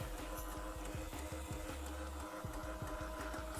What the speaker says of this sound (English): So the printhead, it can be moving like that because it's charging.